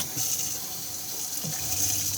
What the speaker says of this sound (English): we can then turn the water pump on